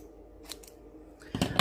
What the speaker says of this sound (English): I'm just going to lightly trim just while that's on the top.